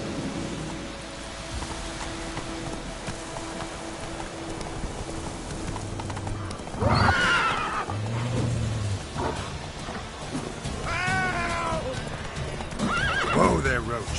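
Horse hooves clip-clop at a gallop in The Witcher 3, with a sharp neigh partway through and further whinnies near the end, over steady rain and a low rumble of thunder.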